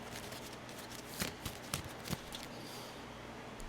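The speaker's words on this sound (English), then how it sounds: "I don't know how I'm gonna shuffle these." Tarot cards are shuffled close by in a few soft, quick riffling bursts over a quiet, hissy room background.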